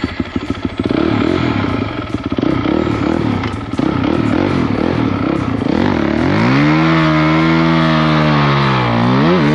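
Motorcycle ridden in winter over ice and snowdrifts, its engine loud and close throughout, with clattering early on and a rising, falling rev toward the end.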